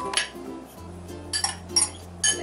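Pineapple chunks tumble into a blender jar while a Dole Whip is being made at home, giving a few separate clinks and knocks against the jar spread over a couple of seconds, fairly close and with no talking.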